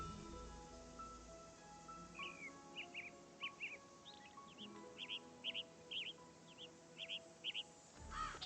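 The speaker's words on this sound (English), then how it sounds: "And several birds." Birds chirping in the woods by a cabin in the Nancy Drew Ghost Dogs of Moon Lake video game, a string of short, evenly spaced tweets over a quiet ambient hum.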